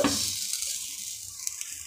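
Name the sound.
onions frying in pan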